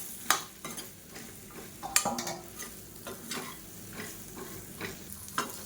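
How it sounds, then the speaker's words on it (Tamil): Okra being sautéed in oil in a pan, with a soft continuous sizzle broken by several sharp stirring clatters and scrapes of a spoon against the pan, close and moderately quiet. "சேர்த்துட்டு எண்ணெயில் நல்லா வதக்கி விடணும் வெண்டைக்காயை."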